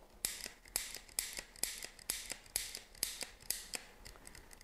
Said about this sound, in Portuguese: ele tem que dar aqui oito cliques, uma vez que é uma bicicleta de câmbio traseiro de nove velocidades